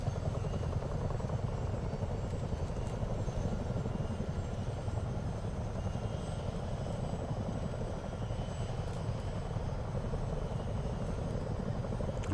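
A CH-47 Chinook helicopter in Microsoft Flight Simulator drones continuously with a deep, throbbing rotor beat and steady turbine roar, loud and unbroken throughout.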